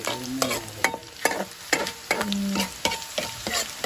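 Food frying in a pan, with dam flowers being cooked, sounds as a low sizzle broken by repeated sharp spatula clacks and scrapes against the pan in an uneven rhythm, close and fairly loud, with no talking.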